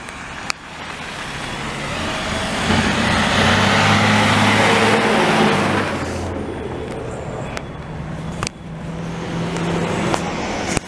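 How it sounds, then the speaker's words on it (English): Heavy dump trucks rumble past nearby at a snow dumping site in Lachine, Montreal, engine noise swelling to a loud peak then fading, with occasional clanks and knocks as the traffic continues. "I'm filming us fucking dump trucks driving here"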